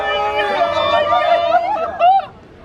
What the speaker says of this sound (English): It's called a grito, and it sounds something like this.